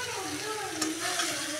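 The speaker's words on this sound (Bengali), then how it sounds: "এখন আমি দিয়ে দিব ভেজে রাখা মাছগুলো।" Fried pangas fish pieces dropped into cooked-down sizzling masala in a pan, a short burst of frying hiss with a couple of soft clunks, close up.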